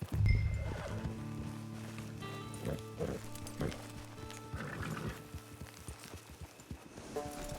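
In the Red Dead Online video game, a horse neighs loudly at the start, then its hooves clip-clop in a steady rhythm over a low humming game soundscape, with a faint voice in the background.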